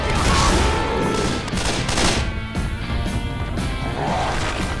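Dense, continuous gunfire roars in the zombie shooter Left 4 Dead, a loud unbroken barrage of shots with crashing impacts and no clear pauses.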